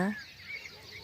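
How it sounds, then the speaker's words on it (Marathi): A brief, faint rooster crow heard from a distance, cut short, against quiet outdoor background. "एका बाजूला कोंबड्याचं आरवणं"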